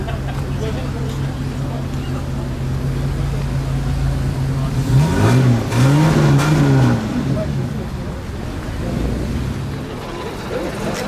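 A car engine at a 2016 Gazoline gathering on Réunion climbs in pitch as it accelerates past mid-clip, with steady hum and wind noise throughout; people chat underneath.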